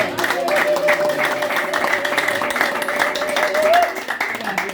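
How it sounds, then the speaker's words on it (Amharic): A church congregation claps together in praise, a dense steady patter of many hands close by, with a voice speaking over it until the clapping thins toward the end. "ለጌታ አጨብጭቡ።"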